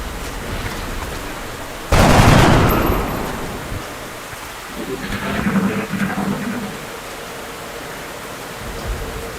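Gunfire in the video game XCOM: Enemy Within: one loud, noisy burst of shots rings out, then fades into a lower rumbling wash with a few softer crackles afterward.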